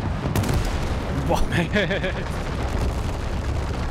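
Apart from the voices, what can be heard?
explosions in WWII video game Gates of Hell: Ostfront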